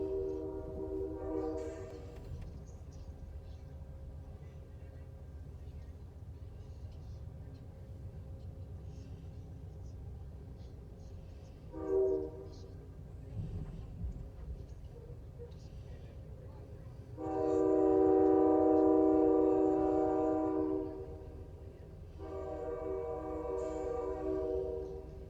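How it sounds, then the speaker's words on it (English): Freight trains run alongside a stopped Amtrak Texas Eagle, giving a low, constant rolling rumble. Several loud horn blasts cut through it, with a short one early, a brief one midway, and two longer, sustained blasts near the end. "some freight trains next to us running"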